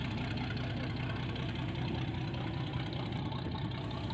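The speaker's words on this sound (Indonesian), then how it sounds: "mesin utama" The main engine of a bagan motor fishing boat in Bone, South Sulawesi, runs at moderate speed as the vessel leaves its mooring, a loud, dense, steady knocking rumble heard close with no talk.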